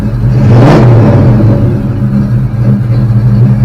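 A close, loud supercharged 4.6-liter two-valve Mustang GT V8 revs up in a deep roar, with a thin supercharger whine riding above the rumble as it climbs and holds.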